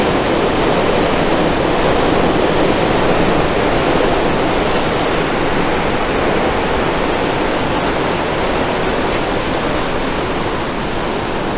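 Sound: water outflow rushing from open gates of Pinnapuram Dam

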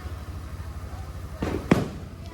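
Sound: firecrackers bursting

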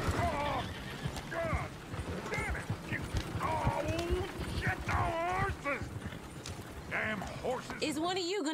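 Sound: horse neighing in video game Red Dead Redemption 2

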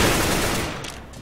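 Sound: gunfire in video game CS:GO

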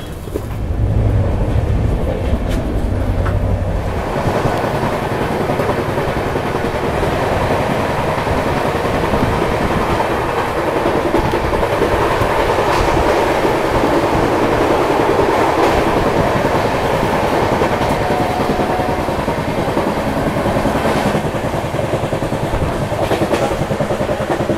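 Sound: Indian Railways Duronto express train running at speed

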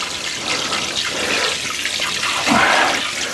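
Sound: water pouring into a large bowl

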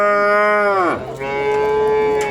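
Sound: cows mooing at Kırıkkale livestock market

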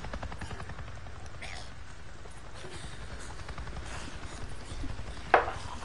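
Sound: helicopter flying overhead in the video game Days Gone

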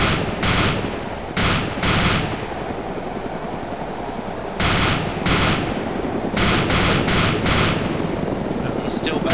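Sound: gunshots from the video game DayZ Epoch

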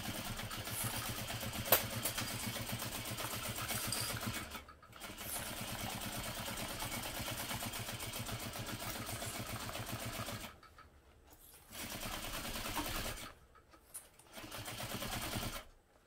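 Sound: sewing machine basting a seam

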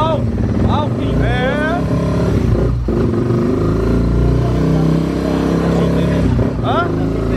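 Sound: Honda XRE 300 motorcycle bored to 400cc revving

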